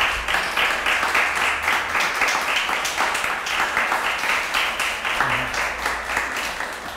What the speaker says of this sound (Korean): 여러분들 박수로 좀 환영해 주시기 바랍니다.